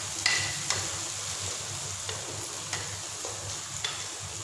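Tomato masala being stir-fried in a pan for aloo gobhi: a continuous close hiss of frying with regular light scrapes and taps of the spatula roughly every half second, no speech.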